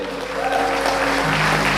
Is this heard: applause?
yes